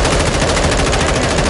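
Loud, continuous automatic gunfire in the video game Call of Duty: Modern Warfare 2 rattles for over a second, a fast unbroken stream of shots with no voices.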